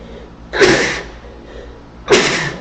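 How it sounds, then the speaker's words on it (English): Two loud, close sneezes about one and a half seconds apart, each a sharp burst over a quiet background hum. "I'm gonna sneeze."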